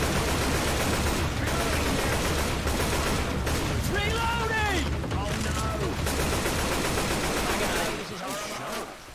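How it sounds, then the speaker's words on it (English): Enemies fire on the player in a shooter video game, a dense, continuous stream of gunfire throughout with overlapping bursts, while people talk over it. "They're shooting me."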